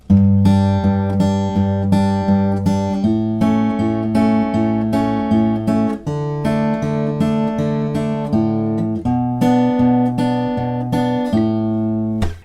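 Fingerpicked acoustic guitar working through the chord sequence of a song, steady plucked arpeggios with regular chord changes, close, bright and continuous, with no voices.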